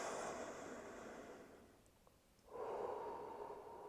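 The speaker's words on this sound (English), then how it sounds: "Really breathing nicely." Breathing during a straight-leg slant calf stretch: steady, close airy breaths with a brief quieter pause midway before the next long exhale swells back in.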